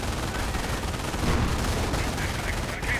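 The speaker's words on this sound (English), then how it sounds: "Volkswagen's getting hit, getting suppressed. Job of the MG42." MG42 machine gun fire in a World War II strategy game, dense rapid bursts mixed with other gunfire and explosions, continuous and loud over a busy battle soundscape.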